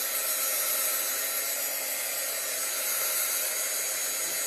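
A hair dryer blows over chalk paste on a houndstooth-pattern transfer, making a steady, close, loud whoosh with an unbroken drone from start to finish and no voices.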